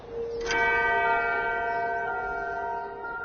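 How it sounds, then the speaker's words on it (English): A single bell-like clock chime strikes once and then rings on with a long, even, sustained decay of overlapping tones, clear and alone with no other sounds. "we were tied to the chimes of man-made clocks"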